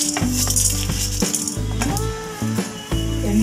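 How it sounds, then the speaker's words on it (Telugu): Chana dal, urad dal, mustard seeds and fenugreek seeds fry in a pan for a Guntur-style stuffed brinjal masala curry, giving a soft sizzle with rattling stirs and steady tones running underneath. "దోరగా కొంచెం కొంచెం వేయించుకోవాలి"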